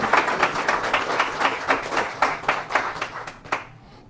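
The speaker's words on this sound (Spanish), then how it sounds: "Dale un aplauso al Eterno." A church congregation claps in a steady, fairly quick rhythm during a Spanish-language sermon, the claps close and even, then stopping abruptly near the end.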